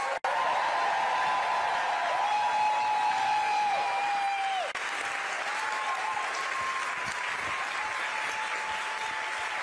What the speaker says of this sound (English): Please give a round of applause for our special guest, Julia Louis-Dreyfus.